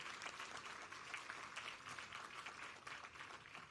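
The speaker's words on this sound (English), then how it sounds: "Shall we have another resounding applause for the successful completion of our graduation" Audience applause at a graduation ceremony, a continuous dense patter of many clapping hands, very faint and distant throughout with no talk.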